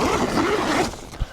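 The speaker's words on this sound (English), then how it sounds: "zip it up." A zipper on a pop-up hide bag is drawn closed in one quick stretch, close and fairly loud, followed by a short soft bump.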